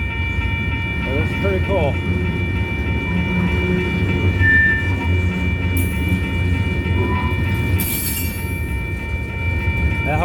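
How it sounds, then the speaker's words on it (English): A long freight train made up entirely of coil cars rolls past with a steady heavy rumble and rattle, faint wheel squeal and tonal whine, while someone speaks briefly over it. "I don't remember ever seeing an entire train of coil cars."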